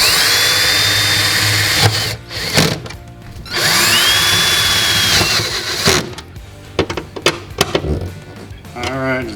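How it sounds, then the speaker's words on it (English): Power drill drives self-tapping screws into a truck bed, two long whining runs close and loud, then a cluster of short bursts and clicks as the screws seat. "The kit came with these self-tapping screws, so I'm just gonna screw it right in to the bed."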